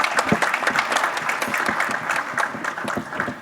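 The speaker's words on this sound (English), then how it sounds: "You can clap. It's okay." Luncheon guests clapping for an engineers and architects association representative, a moderate, uneven patter of hands with sharp individual claps standing out, lasting a few seconds and fading slightly at the end.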